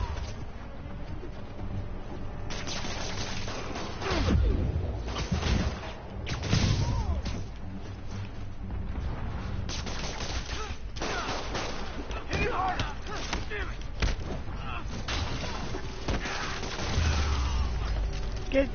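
Explosions and bursts of gunfire in the Spider-Man video game: several heavy low booms around five to seven seconds and again near the end, over continuous game action and music, with voices talking throughout.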